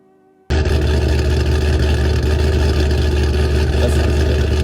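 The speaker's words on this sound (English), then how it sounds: "He has Corsa Extreme exhaust and Ford hot rod cams" After a brief quiet moment, a Ford Mustang engine with hot rod cams roars to life and holds a loud, deep, rumbling idle through a throaty Corsa Extreme exhaust.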